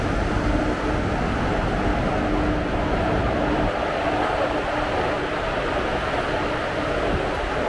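Inside a train approaching Ernakulam station in Kerala during rain, a steady, continuous rumble of carriage and rail noise holds at an even level throughout, with no speech.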